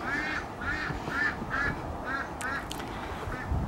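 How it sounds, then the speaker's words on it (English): Ducks at an allotment give a steady run of about eight rhythmic nasal quacks at moderate distance over outdoor background noise. "I do like the ducks."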